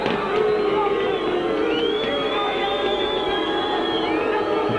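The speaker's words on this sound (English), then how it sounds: "The boos of the crowd tell you" Rugby league crowd at a Workington v Leeds match booing in a sustained, distant rumble of many voices, with a commentator talking over it.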